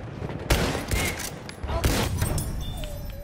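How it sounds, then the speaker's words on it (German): Gunfire in the Battlefield 1 video game, with an enemy machine gun firing in dense bursts of rapid shots and a louder burst near the start and another midway. "Da! Feindliches Maschinengewehr!"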